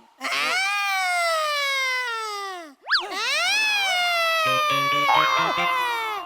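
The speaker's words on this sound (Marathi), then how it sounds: "हा वाजला तो सायरन" A comic siren sound effect wails in long, loud, falling sweeps, breaks off briefly, then rises again and repeats.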